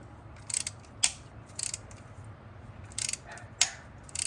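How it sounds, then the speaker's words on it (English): A ratchet slips while working on the carburetor of a 1975 Honda Civic CVCC, making quiet, sharp clicking bursts at uneven intervals, close and fairly faint. "I think it's the ratchet slipping."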